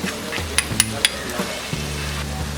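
Spices, salt, red chili powder and green chilies stirred in a hot pan with oil: a soft constant sizzle broken by several sharp metallic clinks of a spoon against the pan, close up.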